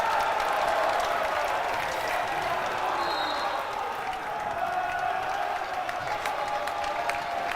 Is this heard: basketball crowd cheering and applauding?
yes